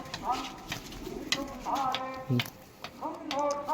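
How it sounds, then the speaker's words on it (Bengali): Breeding pigeons coo in a series of rising, throaty calls, fairly close, repeating every second or so, with a voice talking intermittently over them and a brief tap partway through. "এগুলো কিন্তু সেলের জন্য না, ব্রিডিং পায়রা"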